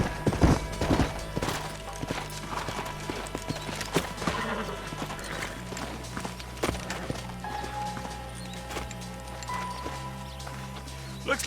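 Horses' hooves clip-clop in the Red Dead Redemption video game, a steady irregular run of hoof strikes near and moderately loud across the whole stretch, joined by faint background game sounds.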